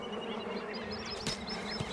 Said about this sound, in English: In heat like this, the bees need water too.